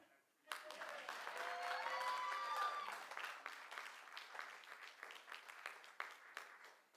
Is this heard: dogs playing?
no